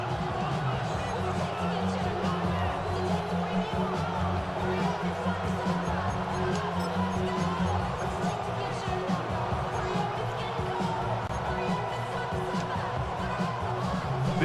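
Steady roar of a packed football stadium crowd as the home team sets up for third and goal late in a close NFL game, loud and continuous with a broadcast commentator talking over it.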